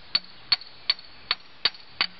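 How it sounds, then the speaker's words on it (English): Six sharp metallic hammer strikes on a seized, overtightened alternator bolt in a Ford Explorer engine bay, spaced about every 0.4 seconds, close and clear with no talk. "Nothing that a couple hammers can't take care of. Let's bang on it for a while."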